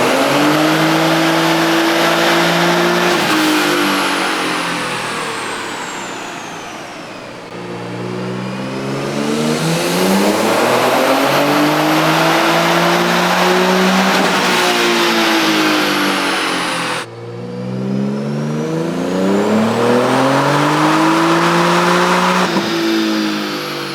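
A Nissan engine revs hard under boost through repeated dyno pulls, loud and close, with rising and falling pitch sweeps across three runs and brief drops between them, no talk over it.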